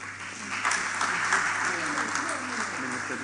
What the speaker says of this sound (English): let's keep celebrating and applauding